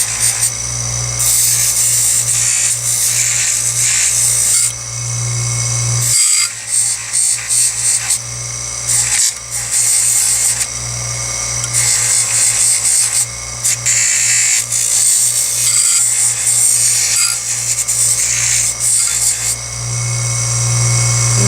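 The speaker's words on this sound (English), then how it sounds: "Now I'm going to finish smoothing it on the fiber wheel." A mini grinder with a fiber wheel smooths bent silverware in loud, close bursts of harsh whirring, cutting out briefly several times and then starting again.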